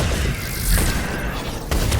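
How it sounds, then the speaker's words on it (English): Biotic explosions from an N7 Fury in Mass Effect 3 multiplayer: loud, dense rumbling blasts with a sharp burst near the middle and another just before the end, with no talk. "all the explosions you're hearing in the background is when she does a biotic explosion"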